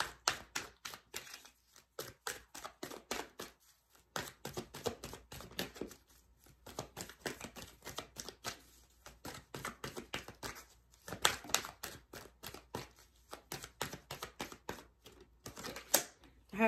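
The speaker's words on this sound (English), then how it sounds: "Let's just pull a few cards for this change card." Tarot cards shuffled and pulled from the deck: dense, rapid flurries of crisp papery clicks and flutters in bursts, broken by brief pauses, close and fairly quiet.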